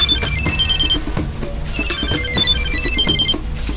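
A telephone rings with a loud, continuous trilling ringtone that repeats in quick electronic pulses, alone with no voices over it.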